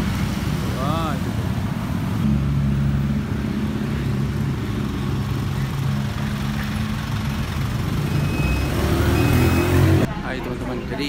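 A car passes on a city street, its engine rumble swelling and fading close by amid steady traffic noise, with voices talking over it.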